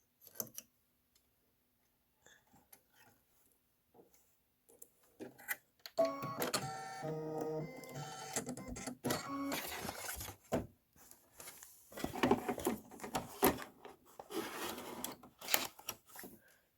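Embroidery machine stitching a candy corn flower stem detail on a Kimberbell bench pillow block, a rapid rhythmic mechanical clatter that starts after quiet ticks and runs with brief pauses and changes in pace.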